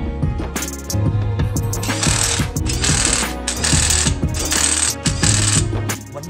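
A ratchet tightens the lug nuts on a 2019 VW Arteon wheel in a star pattern during a brake job. Its rapid, loud clicking comes in repeated bursts, with pauses between nuts.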